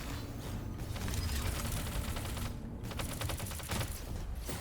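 Gunshots in the Punishing Gray Raven video game, a dense rattling volley of rapid fire that continues for several seconds with short pauses, fairly loud and busy.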